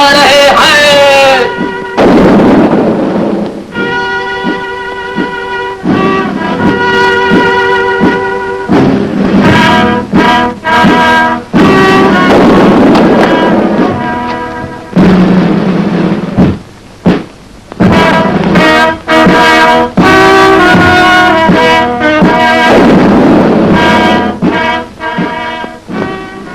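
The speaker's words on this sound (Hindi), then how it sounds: "आपकी सलामती की तोपें दागी जा रही हैं।" Cannons fire a salute in the old Hindi film Lala Rookh: a loud series of booming shots bursts repeatedly over continuous orchestral music.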